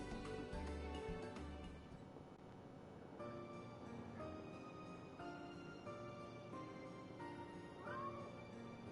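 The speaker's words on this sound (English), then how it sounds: "Meow, says the kitty." A cat meows repeatedly in Final Fantasy XIV, clear plaintive mews spread across the span over a steady bed of in-game music, with no talking.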